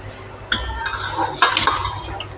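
Marinated chicken poured into hot oil tempered with whole spices in a pan, bright metallic clinks of a spoon against the pan over a soft sizzle, close and brief with no talk.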